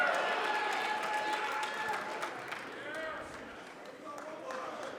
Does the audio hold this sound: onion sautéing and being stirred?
no